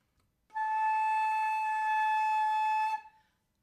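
A flute sounds a single sustained tuning note, slightly flat, held steadily for about two and a half seconds, clear and close with no talk.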